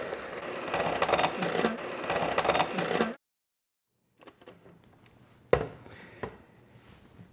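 An electric mixer runs on high speed whipping egg whites for einkorn waffles, a loud steady whirring drone for about three seconds that stops abruptly, followed by quieter kitchen clatter and a sharp knock.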